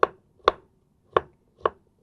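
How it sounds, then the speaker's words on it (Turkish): A knife chops vegetables into small pieces for a vegetable soup, five crisp, separate strikes on a cutting board at an uneven, unhurried pace, close and clear against silence. "Ben taneli çorba sevdiğim için biraz daha ufak doğruyorum."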